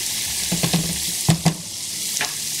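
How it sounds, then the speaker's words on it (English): Garlic and ginger fry in a pan for crispy Asian wings, a steady close sizzle broken by a few short scraping stirs of a utensil, no voices. "So my garlic is starting to brown and the ginger is starting to brown"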